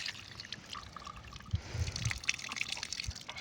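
Water flows out of an opened outlet at a farm, a soft trickling and splashing stream with a few louder gurgles and drips in the middle, fairly quiet and steady.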